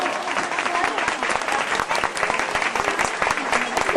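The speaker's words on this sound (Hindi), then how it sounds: "कम से कम ताली तो बजा दो" Audience at a religious gathering clapping hands together, a dense, continuous patter of many claps from a crowd, steady throughout with a faint murmur of voices underneath.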